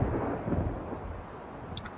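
Steady rain with rolling thunder in the video game Last Day of June, a continuous low rumble and hiss of rainfall filling the scene without any talk.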